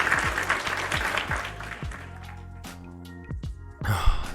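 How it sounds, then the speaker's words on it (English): Crowd applause during a live stream, a dense burst of clapping at the start that thins out and fades, then a short renewed patter near the end. "Can we get a round of applause for Rena?"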